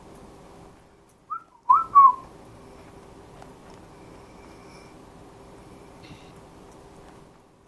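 The whistling horror monster in the game Pantheon lets out a few short, clear whistles over a faint steady hum, then the scene stays quiet.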